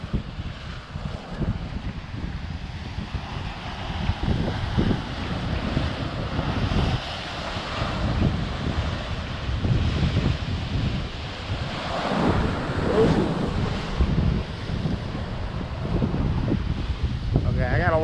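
On the Pacific coast at Cape Kiwanda, loud surf roars and crashes continuously while strong wind batters the microphone, a dense, steady wash of waves breaking below the cliffs.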